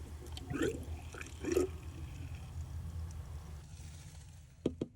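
Water running into the fresh water tank of an Embassy Dolphin Class B RV, a low steady gurgling fill with a couple of louder bubbling surges early on and sharp drips or glugs near the end, fairly quiet and close.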